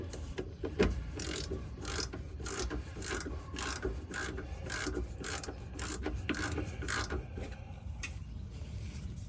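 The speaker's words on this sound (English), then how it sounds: "we're gonna torque them to spec to 18 foot-pounds" A torque wrench tightens the fuel filter bolts on a 2015-2022 GMC Canyon/Colorado Duramax diesel, close and fairly quiet, giving a steady run of rapid ratcheting clicks and rasping metal for several seconds.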